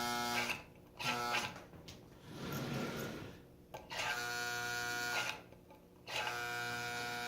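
A Marx 999 toy train locomotive's small electric motor whirs in bursts, starting and stopping several times with short pauses, a steady buzzing hum close by and no talking.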